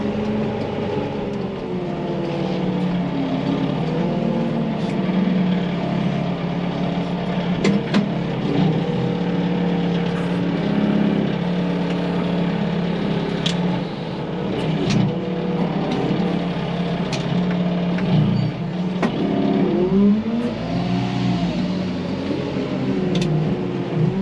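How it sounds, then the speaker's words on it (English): A farm vehicle towing a combine header trailer across the road between wheat fields gives a steady, loud engine drone with a constant low hum and occasional rattles, heard alone throughout. "Just towing the header trailer, because the next field is across the road"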